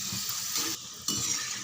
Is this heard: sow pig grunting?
no